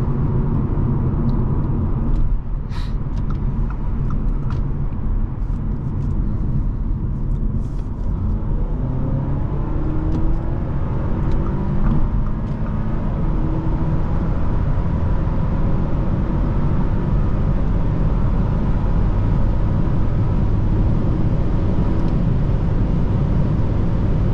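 A 2024 Audi A4 45 TFSI Quattro drives along, its engine and tire roar forming a loud, steady low rumble, heard from inside the cabin with no talking.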